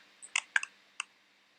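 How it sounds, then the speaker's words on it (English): A few sharp, quiet clicks of keys being typed, picked up through a microphone, come in irregular taps close by against near silence. "And it's a typing sound,"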